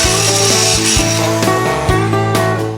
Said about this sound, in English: I welded the crush tubes into the chassis for the bottom 2 bolts and then sanded them back flat.